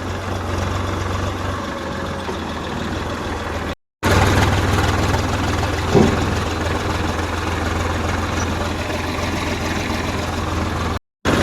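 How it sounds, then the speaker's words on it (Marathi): A tractor engine idles steadily with a low, even rumble that holds throughout, with two brief dropouts and no talk. "मस्तपैकी ट्रॅक्टरनं टायली घेतली आता जायचे कांदा भरायला"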